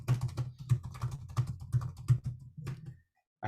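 Quick, steady keystrokes on a computer keyboard, close and fairly loud, clattering in an even run before stopping abruptly.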